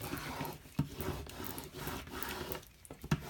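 Close rubbing and scraping as Cricut glitter vinyl is burnished down onto canvas, uneven strokes with a few sharper knocks, no voices.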